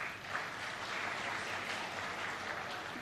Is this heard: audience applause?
yes